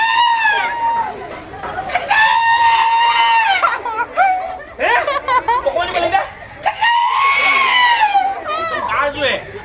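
A voice imitates goats and their kids bleating, with loud wavering cries repeated in several bursts close to the listener.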